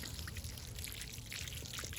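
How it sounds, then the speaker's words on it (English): Water is poured over a newly planted perennial ground cover plant, a quiet, steady trickle and splash that continues softly throughout. "I'm going to give it a little bit of water."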